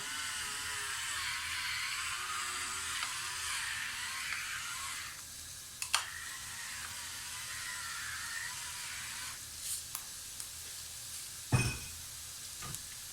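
Lasagne filling sautéing in a pan, a steady close sizzle with soft stirring scrapes and a few clinks of a utensil against the pan toward the end.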